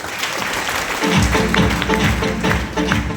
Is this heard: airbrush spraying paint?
no